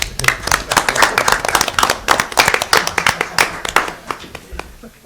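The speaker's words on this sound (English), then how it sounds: "We'll give them a round of applause on that one." Applause from a small audience at the South Lyon city council meeting: irregular, fairly close hand claps that thin out and fade toward the end, with no talking over them.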